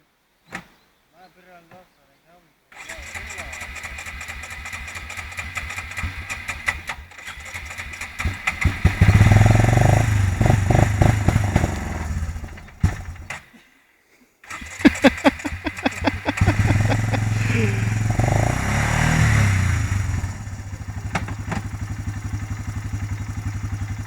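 An engine cranks and catches after a few tries, then settles into a steady close running drone that revs up and down, cuts out briefly and restarts, with people talking over it.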